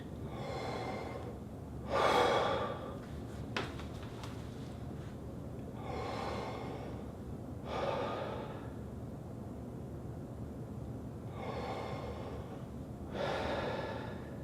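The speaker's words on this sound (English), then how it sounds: "So watch when I breathe." Slow, relaxed deep breaths taken close to the microphone, several long airy inhales and exhales spaced a few seconds apart with quiet pauses between them.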